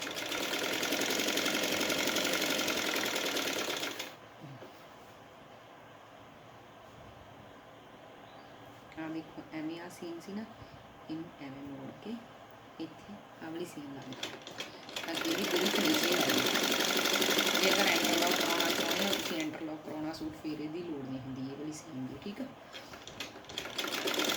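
Sewing machine stitching a salwar seam, two long loud runs of rapid whirring stitches separated by quieter stretches where a person talks over the softly idling machine.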